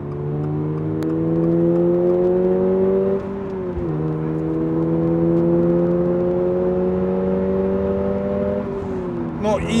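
A Toyota GR86 in track mode is floored, its engine note climbing hard and loud through one gear, dipping at a quick shift, then rising again before a final lift off the throttle.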